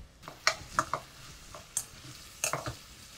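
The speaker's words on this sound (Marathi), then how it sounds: "हलका कॅरमलाइज होईपर्यंत हा शिजवून घेऊया." Finely chopped onion with a pinch of salt sautéing in a pan, a spatula scraping and stirring it in several sharp taps and scrapes over a faint steady sizzle, close and fairly quiet.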